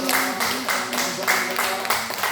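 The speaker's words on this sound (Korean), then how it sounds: "감사한 마음을 담아 우리 하나님께 박수 한번 할까요?" Church congregation at a Korean Sunday service clapping in a rhythmic unison beat, about four to five claps per second, close and full in the room, with faint voices underneath.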